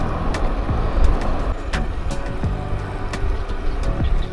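On a road, a car passes a cyclist, its engine and tyre roar rising and falling close by over steady wind and road noise, with no talking.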